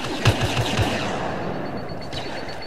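Gunfire in the Star Wars Battlefront video game, a quick burst of several shots near the start that fades into a steady wash of distant battle noise with a faint high whine later on.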